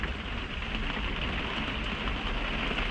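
Steady rain falls through a forest near Dumfries in Scotland, a dense even hiss of drops with no break, close and constant throughout.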